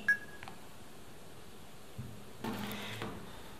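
A Bose SoundLink Color II speaker gives a short electronic tone as its multifunction button is pressed to activate the voice assistant, followed moments later by a brief louder chime-like burst in a quiet room.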